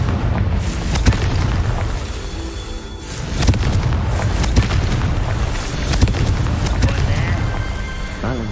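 Repeated Confringo spell blasts in Hogwarts Legacy, several booming explosions spaced a second or two apart over a steady background of game ambience.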